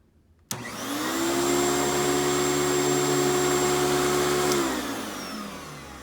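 A Panasonic MC-V5238 upright vacuum cleaner, fitted with an LED headlight, switches on with a sudden whoosh and spins up to a loud, steady whine with a high tone. Near the end the motor winds down and the pitch drops.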